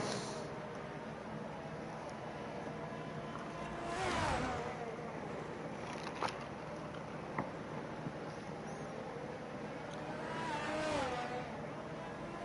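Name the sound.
F1 race car driving an out lap in a racing video game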